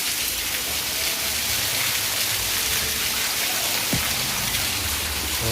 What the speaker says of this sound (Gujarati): બહાર જોઈ શકો છો કે કેવો વરસાદ પડે છે.